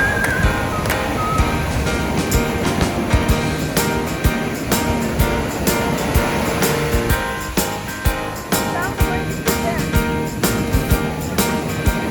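Surf rolling onto an Atlantic beach on Assateague Island, a steady, full wash of breaking waves with continuous broadband roar and no pauses, close and fairly loud, with no voices.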